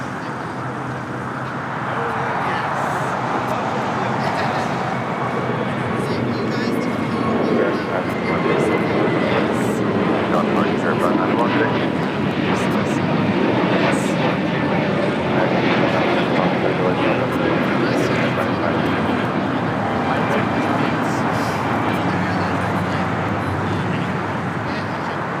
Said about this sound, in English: Spirit Airlines Flight 591 heading to Houston. It's an A321neo. It's the next takeoff here on the south side.